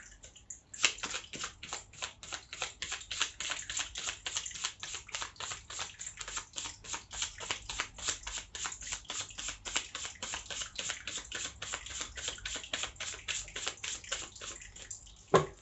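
Tarot cards being shuffled by hand, a long run of rapid, crisp riffling flicks close to the microphone, steady throughout with no talking.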